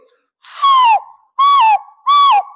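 A human voice imitates a hill myna's call three times, each a loud, clear whistled cry that swoops downward, separated by short pauses.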